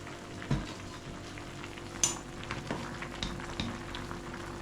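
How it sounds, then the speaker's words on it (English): Plantain pepper soup with cow meat bubbling in a pot over a village cooking fire, a steady low simmer and bubbling with a few soft stirring clicks and knocks, no talking. "Everything is boiling now"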